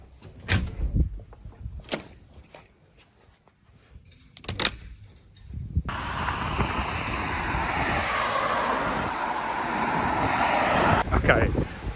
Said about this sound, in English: I came out and it was that windy that I was freezing